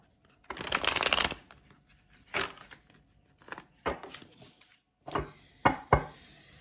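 Tarot cards being shuffled by hand, a long riffling burst at first followed by several shorter crisp shuffles and taps, close and clear with no talking.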